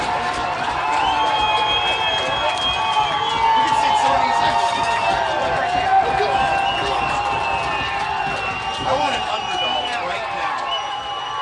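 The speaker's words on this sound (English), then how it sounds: "this Bricky crowd is getting hyped up" Home crowd of Hobart Brickies fans at a cold high school football game, a broad steady roar of cheering and crowd noise all through, with an announcer talking over it.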